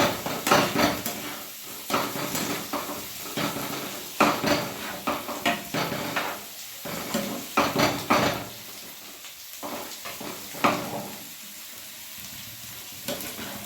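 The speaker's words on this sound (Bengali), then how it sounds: "খুব ভালোভাবে মিশিয়ে নেব লবণ।" Salt being stirred into a potato curry (aloo dum) in a pan: a steady sizzle runs under repeated scraping and clinking of a spoon against the metal, in uneven bursts, with no talking.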